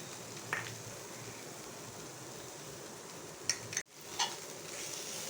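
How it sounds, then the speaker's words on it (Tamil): Shredded cabbage and peas sauté in a pan for cabbage fried rice, giving a quiet, steady sizzle with a couple of brief scraping stirs near the end. "காயும் பட்டாணி நல்லா வதங்கிருச்சு."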